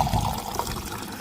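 Water streams steadily from the tap of a drinking-water filter at a Ram temple, a close, continuous splashing flow.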